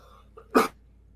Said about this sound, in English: I told you that cough was going to come up.